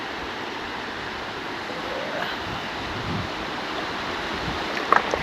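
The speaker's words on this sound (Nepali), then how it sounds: "खोला त निकै ठुलो पो हुँदो रहेछ त अहिले त" A large river rushes past close by, a constant broad roar of flowing water with no pause, joined by faint short knocks near the end.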